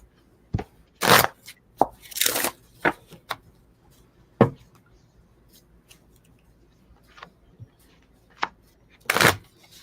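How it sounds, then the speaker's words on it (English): An oracle card deck is shuffled by hand in bursts of crisp riffling and slapping card noise, irregular and close, with quiet pauses between. "I'm shuffling here."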